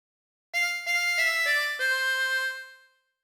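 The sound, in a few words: tremolo harmonica playing a phrase of Ampar Ampar Pisang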